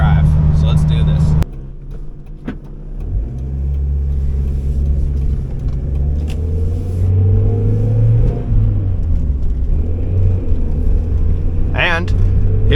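A 1991 Mazda Miata NA with a five-speed runs along rural Pennsylvania roads, its engine droning loud and close from inside the cabin, pitch rising and dropping through gear changes, with someone talking over it.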